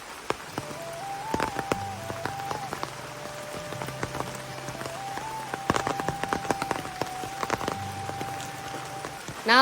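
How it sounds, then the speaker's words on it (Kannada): Rain patters steadily on a hard surface, with sharp drips and taps scattered over a constant wet hiss and a faint tonal hum in the background. "ಹಾಗೆ ಮಳೆ ಬರ್ತಾ ಉಂಟು"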